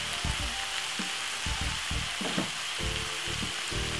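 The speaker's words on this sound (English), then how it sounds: "So we're gonna fry up this for about 5 to 6 minutes." King prawns fry in a pan with a pinch of mixed herb and salt, a steady close sizzle with intermittent stirring scrapes and knocks throughout.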